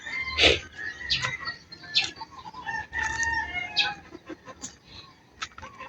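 Backyard chickens at a rural provincial home cluck and crow in a busy, overlapping chorus, with a few louder calls standing out close by and no talk.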